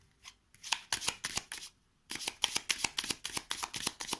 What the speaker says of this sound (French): Et je vais mélanger le paquet.